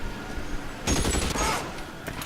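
Gunfire in the L.A. Noire video game: a sudden burst of loud, rapid shots breaks over a steady background rumble and continues in a dense volley before easing off.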